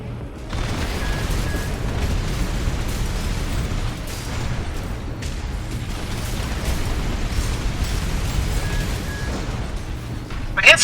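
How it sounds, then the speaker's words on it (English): A mech in the Armored Core 6 video game fires all its weapons at once while strafing, a dense, continuous roar of booming blasts and bursts that holds steady for about ten seconds, with a sharper crack at the end. "And now to hold down all attack buttons while strafing."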